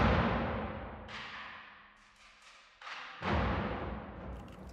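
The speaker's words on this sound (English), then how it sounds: "So percussion 2 sounds like this." Hans Zimmer Percussion Professional cinematic percussion part, a few large booming hits with long washy decays swelling and fading across several seconds, fairly quiet and spacious, no talking.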